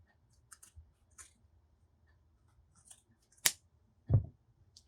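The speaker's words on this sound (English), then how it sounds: "I'm going to cut this open." Scissors cut open a pair of period underwear in a quiet room, giving a few sparse, close snips and clicks of the blades and ending in one sharp snip and a duller thud-like cut.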